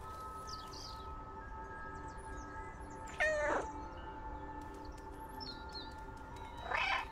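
A cat in the game Stray gives two drawn-out meows several seconds apart over a quiet ambient hum, with faint chirps and small clicks scattered between them.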